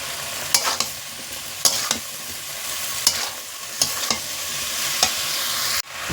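Fried snails tipped into bottle gourd greens frying in a pan and stirred, giving a steady sizzle broken by about seven sharp scraping clinks of the spatula, close and alone.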